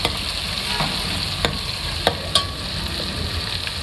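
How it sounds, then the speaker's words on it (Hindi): Onions with ginger garlic paste fry steadily in a pan for a traditional D.I. Khan sobat dish, a constant close sizzle broken by a few sharp stirring clinks. "ये इनको भूनने देते हैं थोड़ी देर के लिए।"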